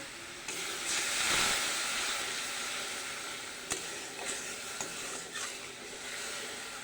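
Turmeric, chili powder and mustard paste for hilsa being stir-fried in a pan: a soft sizzle swells early, then sharp spatula scrapes and clicks against the pan, close and quiet, with no talk.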